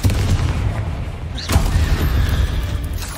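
A magical Confringo fire blast in Hogwarts Legacy, a single booming impact about halfway through over a dense, rumbling combat soundscape.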